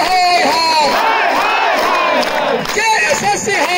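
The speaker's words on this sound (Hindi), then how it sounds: "ताली बजा करके बोलेगा जय सो सिहोर हो" A large crowd at a protest rally loudly chants a slogan together, the massed voices swelling in unison close by with cheering under them; clapping is not clearly distinct.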